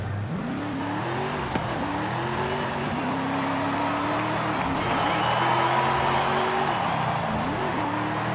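A drift car on drift compound tires spins its wheels in Forza Horizon 5, the engine droning and rising in revs over a continuous tire squeal and hiss, loud and sustained throughout.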